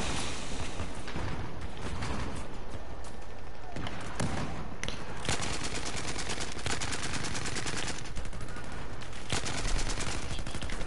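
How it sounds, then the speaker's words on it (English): Rapid video game gunfire rattles in steady automatic bursts throughout, loud and close, with sharp single shots mixed in and voices talking over the shooting. "Stop shooting me."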